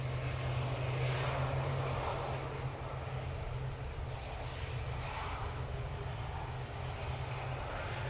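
An easyJet airliner departs Manchester Airport, its jet engines a steady, broad roar held at a distance, with no voices.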